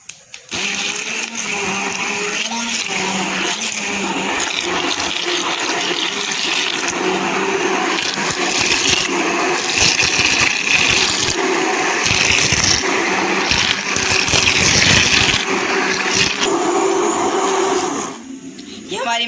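An electric grinder whirs loudly and steadily as it purees mango for kheer, its close motor running almost nonstop before cutting off near the end.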